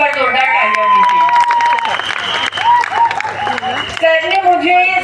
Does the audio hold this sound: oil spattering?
no